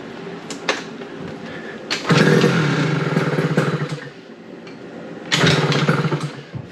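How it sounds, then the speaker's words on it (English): A Yamaha Aerox scooter with a newly fitted smart carb is started with the choke on. Two short cranking bursts are followed by the engine catching and revving loudly, dropping to a rough idle, then revving again close by. "I guess I'll start the choke on, see what happens."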